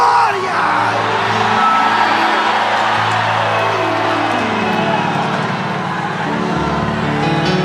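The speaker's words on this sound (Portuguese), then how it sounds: "Mais um grito de glória!" A church congregation shouts a loud, sustained cry of glory, a dense crowd roar of yelling and whooping that fills the space without a break.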